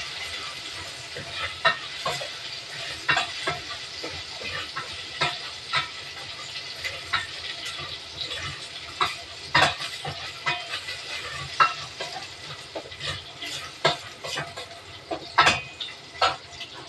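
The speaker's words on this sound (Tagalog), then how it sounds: "nagigisa na ako ng munggo" Mung beans sautéing in a pan, a steady close sizzle and hiss with frequent sharp stirring clicks and scrapes of the utensil, no voices.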